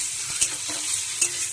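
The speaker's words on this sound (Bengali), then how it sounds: "ঠিক ভাজা নয়, হালকা শ্যালো করে নেবো, জাস্ট হালকা হালকা একটু নেড়ে চেড়ে।" Eggs lightly shallow fried in a pan hiss softly while a utensil stirs them, with two brief scraping clicks against the pan over a steady sizzle, no voices.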